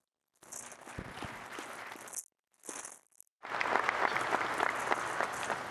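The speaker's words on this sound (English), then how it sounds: "Please give them a round of applause." A press conference crowd applauding in steady bursts: a round of clapping, a brief pause, a short flurry, then fuller, louder applause that carries on.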